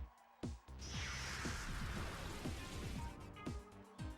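Steady rain hiss from the weather effect in the video game Pokemon XD: Gale of Darkness, rising after a short moment and running throughout alongside repeated short game battle sounds.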